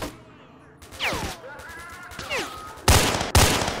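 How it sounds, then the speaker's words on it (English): Gunfire in the video game STALKER: Shadow of Chernobyl, an enemy firing from beyond a hill: scattered shots with whizzing passes in the middle, then two loud, sharp close blasts near the end, with faint voice-like sounds mixed in. "he's shooting at me from beyond that hill."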